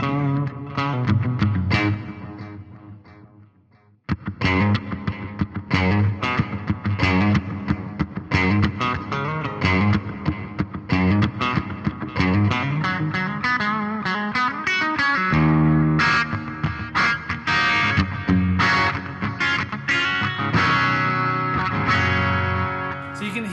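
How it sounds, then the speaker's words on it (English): An electric guitar played through a BOSS GT-1000 multi-effects unit with crisp, bright delay repeats and a wet reverb tail. Chords and single notes ring out and blur together, with a short drop to silence early on before the playing resumes. "So you can hear all of those delays are really crisp and bright, but the reverb is still there as well"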